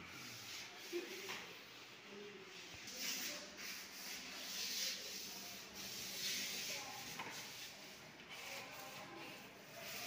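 Sealed wood is sanded by hand with 120 grit sandpaper, producing continuous soft rubbing strokes that are quiet and close.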